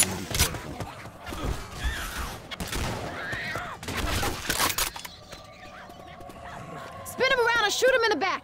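Gunfire in the video game Left 4 Dead 2, including shotgun blasts: repeated loud bursts of shots in the first half, mixed with game noise and shouted character voices.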